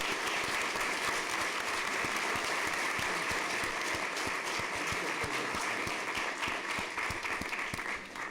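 Sustained audience applause at a school district governing board meeting honoring school principals, steady dense clapping throughout, fairly loud and even, with no talk over it.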